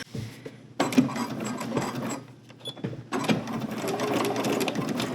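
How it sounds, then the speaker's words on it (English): A sewing machine stitches a quarter-inch seam along an overnight travel bag, whirring close in two rapid bursts separated by a brief pause. "So we are just sewing along the top and the bottom 1/4 inch."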